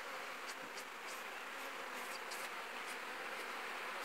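Faint, steady buzzing of bees around a linden tree with a few brief louder passes, quiet and continuous throughout.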